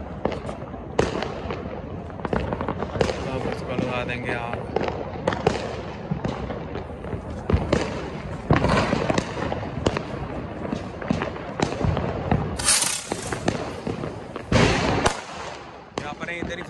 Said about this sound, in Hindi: दो दो हवाइयाँ चला रहे हैं। तो ये चलाने लगे हम पटाखे